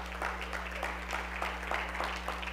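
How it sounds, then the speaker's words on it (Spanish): A church congregation claps for the Lord in a dense, steady patter of many hands, fairly faint and distant, with a low electrical hum beneath and no talking. "Den un aplauso al Señor"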